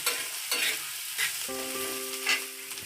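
Onion, ginger, garlic and green chili roast in a pan with a close, constant sizzle. Several scrapes of a spatula stirring come through, and a brief high tonal hum sits under the sizzle partway through.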